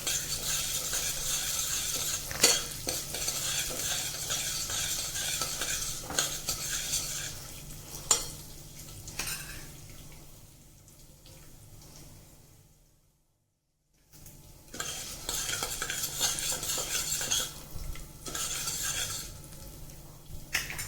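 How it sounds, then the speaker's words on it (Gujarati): Two spoons of raw rice sautéed in a pan until lightly browned, for a sweet milk pudding: steady scraping stirs and soft sizzling of the grains, close and continuous, with a short silent pause partway through. "બ્રાઉનિશ ઉપર આવે ત્યાં સુધી સાતળવાના છે"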